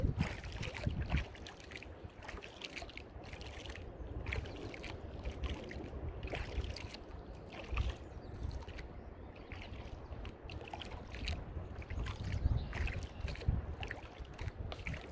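Wind buffets the microphone and water laps around a small boat on a mill pond, a continuous rough rush with no voices.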